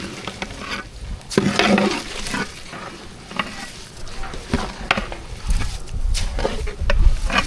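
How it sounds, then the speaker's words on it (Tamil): Rice being mixed into masala in a pot, with repeated close scraping and stirring strokes over a low sizzle, some strokes louder than others. "மசாலா கூட நல்லா கலந்து விட்டுக்கலாம்"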